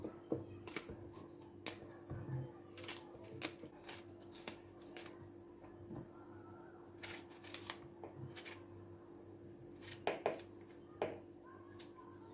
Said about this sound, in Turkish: Soyduğumuz patlıcanları küp küp doğruyoruz.